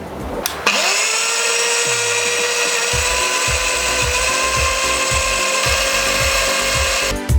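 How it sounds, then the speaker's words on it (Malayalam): An electric kitchen mixer grinds grated coconut with a little water into a smooth paste, a loud, steady high motor whine running throughout with rhythmic low knocking and churning as the jar contents tumble. "1/2 കപ്പ് തേങ്ങ കുറച്ച് വെള്ളം ഒഴിച്ചിട്ട് നല്ല പേസ്റ്റ് പോലെ അരച്ചെടുക്കണം"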